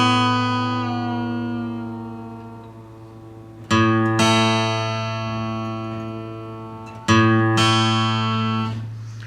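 Guitar string being retuned from B down to A, each pluck ringing as a long sustained note that slowly fades, struck again twice partway through, with no talking.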